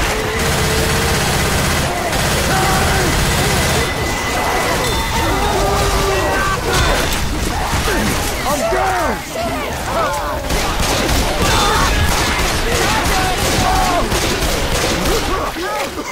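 Dense gunfire and chaotic crashes from a Left 4 Dead 2 versus match roar continuously, with shouting voices mixed into the busy, loud game action.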